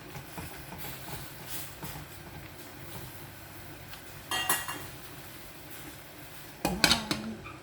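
A lid goes onto a pot of Ilocano dinengdeng vegetable stew with ampalaya, giving two brief clattering metal clinks late on against a faint, hissing kitchen background.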